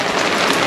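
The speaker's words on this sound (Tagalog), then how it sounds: "Akala ko pa naman hihinto yung ulan." Heavy rain pours down in a steady, loud, dense hiss of drops hitting surfaces, close and continuous for a brief moment with no voices.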